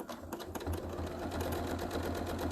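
A domestic sewing machine stitches rapidly during free-motion quilting with a thicker needle, a close, even mechanical whirr and rhythmic needle clatter running throughout.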